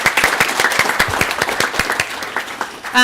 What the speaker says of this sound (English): let's clap maybe for them first.